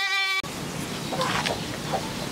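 A single sharp goat bleat cuts off abruptly, followed by an outdoor ambience of buzzing insects and faint distant bleats.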